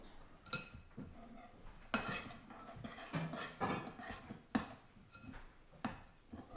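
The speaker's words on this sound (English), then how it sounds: "So we're gonna pour the butter to the crust, and then you can mix it with that spoon." A spoon mixes poured butter into a baking crust, giving scattered clinks and scrapes against the bowl, several sharp taps spaced irregularly, fairly close but soft.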